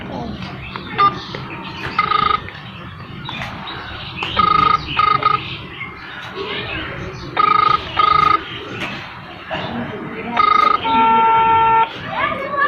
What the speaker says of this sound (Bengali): চাচা কাকবার ফোনটা লাগায়